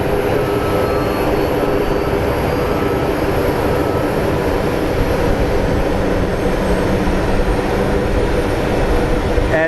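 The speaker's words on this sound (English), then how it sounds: "Engines are coming on" Airliner jet engines spooling up at Sky Harbor International Airport in Phoenix, a steady loud broadband roar with a low rumble that holds without break throughout.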